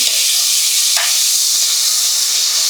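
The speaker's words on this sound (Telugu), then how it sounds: "దీంతో పాటు టొమాటోస్ కూడా వేసేస్తాను ఇప్పుడు." Chopped tomatoes go into a hot pan with curry leaves, setting off a loud, steady hiss and sizzle of oil that holds unbroken and close throughout.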